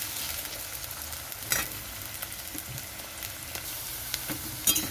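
Potatoes and green chili frying in a pan for a potato, prawn and drumstick-leaf fry, a steady close sizzle with a few scraping stirs and clicks of the spatula, no talking.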